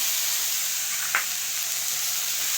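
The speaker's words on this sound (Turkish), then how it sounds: "ben mantının içini iç harcını soteleyeceğim" Minced meat and onion filling for manti sautéing in a pan with a little oil, a steady close sizzle and hiss with one brief stirring scrape partway through.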